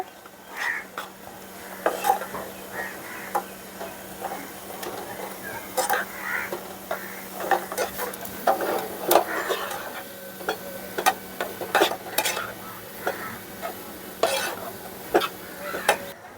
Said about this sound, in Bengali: এখন অনাতার নাড়তে হবে না হলে সুজিটা দলা পেকে যাবে